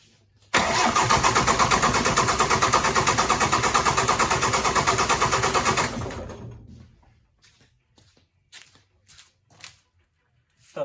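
A diesel Ford Transit engine with loosened fuel injectors cranks loudly and steadily for about five seconds with a rhythmic chug, then stops, leaving scattered quieter clanks and knocks.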